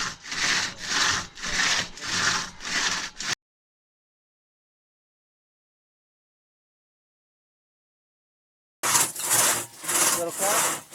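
Hand saw cutting through a downed tree trunk, rhythmic back-and-forth rasping strokes, loud and close, in two bursts separated by a stretch of silence.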